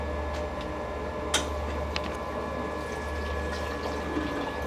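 A FreshBlender blending machine purges water during an ice descale cycle: a low steady pump-and-water hum runs throughout, with a few faint clicks and one sharper tick, fairly quiet and continuous.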